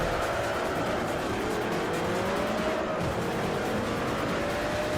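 An Audi R8 race car in Forza Motorsport 4 drones along at steady speed with a moderate engine note and faint tire squeal, continuous and somewhat distant, without speech.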